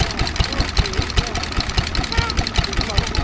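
Close and loud, a Lister D stationary engine drives a water pump at a rural show, its rapid, even thumping and mechanical clatter keeping a constant rhythm throughout.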